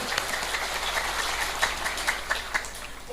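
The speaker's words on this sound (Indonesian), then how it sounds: "Saya minta tepuk tangan sekali lagi untuk P4SK. Yuk, tepuk tangan sekali lagi." An Indonesian event audience applauds P4SK with steady, dense clapping that carries on unbroken, with a few sharper claps standing out.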